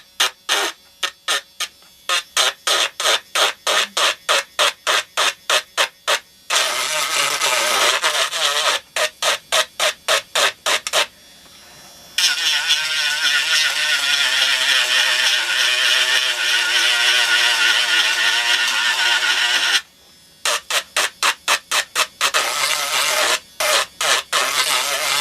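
A power sanding tool works over the plastic sides of a doll being restored, running in bursts of short rapid pulses and then long steady rasping passes, fairly loud and close, with no talking.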